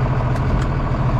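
A small tractor engine idles close by in a brief, steady low rumble with a faint clatter, no talking.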